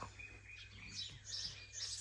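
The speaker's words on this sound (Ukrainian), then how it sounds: "Сидимо, їмо і насолоджуємось співом птахів. Тільки послухайте, як гарно співають." Birds singing on a morning at a country house, repeated high chirps and tweets at a moderate distance over a quiet low hum.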